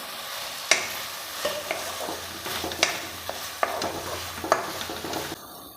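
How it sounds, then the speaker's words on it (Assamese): Fried okra is stirred into sizzling tomatoes in a pan, a steady sizzle and frying hiss broken by several sharp clinks and scrapes of a spoon against the pan. "ইয়াতে এতিয়া ভাজি থোৱা ভেন্দিখিনি দি দিম।"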